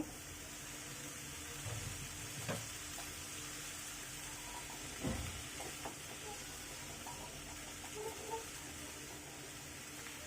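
Cleaned taro stolons tossed into spices frying in a pan, a faint, steady sizzle with a few soft stirring knocks and scrapes, quiet and close with a bit of low talk.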